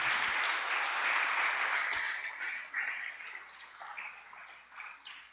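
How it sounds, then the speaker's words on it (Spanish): Church congregation applauding during a sermon, a broad wash of clapping from many hands that gradually thins and fades over a few seconds. "Denle un aplauso a nuestro Dios"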